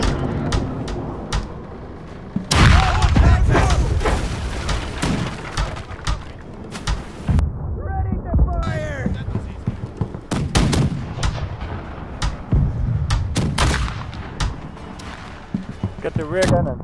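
Ship cannons fire aboard a galleon in the naval game Blackwake, delivering repeated heavy booms and sharp blasts in uneven volleys, with voices talking over the battle.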